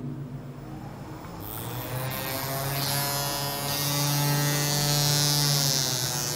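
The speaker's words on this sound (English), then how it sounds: "Obviously, motor is running in high speed with little noise." A small 12V/24V brushless DC motor run from a driver spins up from a lower speed to a high-speed whine, a close, steady buzzing hum that rises in pitch and holds, with no talking.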